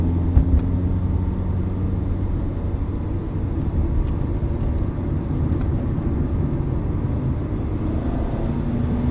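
A sports car, Aston Martin or Ferrari, held in 4th gear on a circuit, giving a steady close engine drone and rumble that stays constant throughout with no voices.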